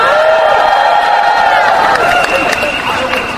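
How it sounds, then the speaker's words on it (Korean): A street rally crowd outside the Korea Development Bank, after a march to the National Assembly, claps and cheers loudly at close range in a brief, dense burst that eases slightly toward the end. "박인선 목사님을 힘찬 박수로 모시도록 하겠습니다"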